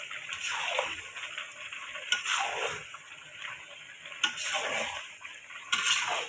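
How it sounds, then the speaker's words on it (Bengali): Country chicken and fried potatoes are stirred in a hot pan, giving repeated scraping sweeps over a steady close sizzle and frying hiss. No one talks. "পুরো খানটা কষাবো, নাড়িয়ে চাড়িয়ে তারপরে জল দেবো"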